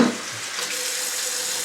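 Tap water runs steadily while a plant tray used for watering potted orchids is rinsed off, a close, continuous splashing hiss with no talking.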